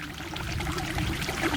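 Water splashes and trickles continuously as field crabs are rinsed in a container, a close, moderately loud pouring and sloshing sound.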